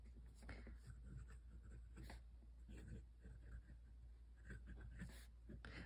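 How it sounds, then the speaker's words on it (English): Esterbrook Estie fountain pen, freshly inked with an unadjusted nib, scratching across paper in short strokes with pauses, faint and close against a steady low hum. "I just inked it up. This is the first writing sample."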